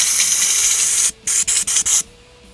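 A paint spray gun loaded with paint and hardener hisses loudly in one long burst, then sputters in four short spurts before cutting off.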